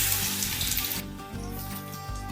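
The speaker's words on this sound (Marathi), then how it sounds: "आता तेल कढल्यानंतर यामध्ये आपण कांदा घालूया" Chopped onion dropped into hot oil hisses and crackles with a loud burst of sizzle, then a quieter continuous frying hiss, close and without talk.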